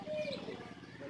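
Soft low cooing of a homing pigeon returning to its loft in Sariaya, Quezon, with a few faint chirps nearby, heard close against quiet outdoor background.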